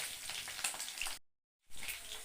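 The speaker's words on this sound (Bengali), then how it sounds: "আমি এখানে ইয়েটা গাজরটা একটু ভাজছি" Carrots sizzle in a hot frying pan for mixed fried rice: a close, steady crackling hiss that cuts out briefly for about half a second, then resumes.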